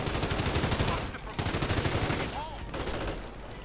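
Dense, continuous gunfire and machine-gun bursts from a war strategy game fill the scene, with repeated rapid volleys rising and falling and a thump of mortar fire in the mix, steady and loud throughout.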